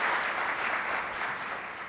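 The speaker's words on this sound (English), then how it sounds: "please all give them another round of applause for their participation today" Audience applause fills a university lecture hall at Columbia University after a talk on international affairs, a dense, even wash of clapping that fades slightly over two seconds.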